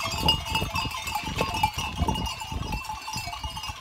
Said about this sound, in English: Got some goats traveling behind us here.